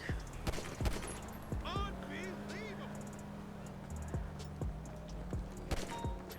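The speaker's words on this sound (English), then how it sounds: "I'm just gonna shoot into the air really quick" Gunfire shot into the air in GTA 5, several sharp cracks scattered through the scene over traffic and ambient game noise, with a voice talking over it.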